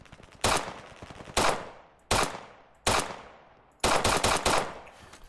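Sharp, loud pistol shots from a Glock in the shooter game Operation Harsh Doorstop, several single reports followed by a quick burst of rapid shots, each with a short echoing decay.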